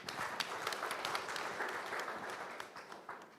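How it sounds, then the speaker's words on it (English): Audience applause at a university open house for an integrated BBA and MBA program, a steady burst of many hands clapping filling the room, fairly loud and close, fading slightly toward the end. "Round of applause for her."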